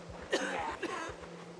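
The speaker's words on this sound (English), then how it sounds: "You must be able to hear me coughing." Two quick, muffled coughs sound close by, one after the other, over a faint rhythmic background hum.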